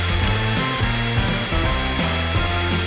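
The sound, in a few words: hair dryer melting Skittles paint on a cake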